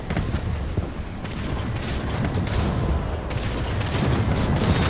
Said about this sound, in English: The artillery is not breaking the bunkers like I thought they would.